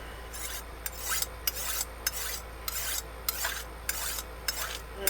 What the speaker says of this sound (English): Where's my sharp knife? Maybe a little bit of time for a sharpen.